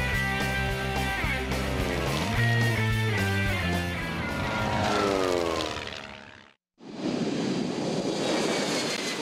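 A Brazilian-built jet airliner roars loudly on its takeoff run, engine whine rising and sweeping upward under music-like tones, then cutting briefly to silence before a broad rushing roar resumes.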